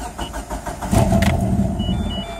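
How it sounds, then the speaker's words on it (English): A DSM 2G car with the IAC deleted cold-starts: the starter cranks in quick rhythmic pulses for about a second, then the engine catches and runs at a rough, loud idle. "this will show a full cold start with all that stuff gone."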